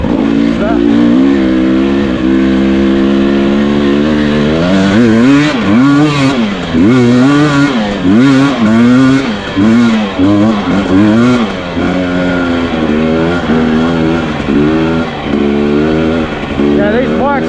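A KTM dirt bike on a hard enduro trail in Australia, engine loud and close, revving up and down in rising and falling sweeps with steady throttle blips throughout, with voices partly under the engine noise.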